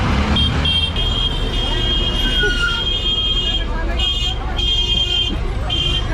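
Busy Mumbai street traffic with horns honking repeatedly over a steady roar of engines and passing vehicles, the horns sounding in bursts close by while people talk in the background.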